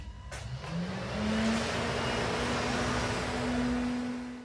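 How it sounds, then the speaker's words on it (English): A car's electric cooling fan, switched on through a Udiag X60 scan tool, runs as a steady near whirring hum with a rising motor tone, with no talk over it. "Now with execute, I will activate fan."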